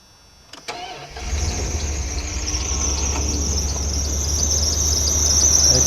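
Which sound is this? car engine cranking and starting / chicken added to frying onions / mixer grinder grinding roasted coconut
car engine cranking and starting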